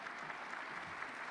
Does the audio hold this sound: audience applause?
yes